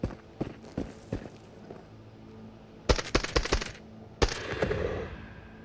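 Gunfire in a video game aimed at a seeker enemy, with scattered footsteps, then a quick burst of several shots and one more sharp shot trailing into rumbling noise, close and loud, with no talking.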